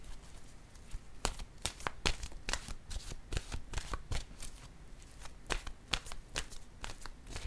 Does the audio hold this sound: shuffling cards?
yes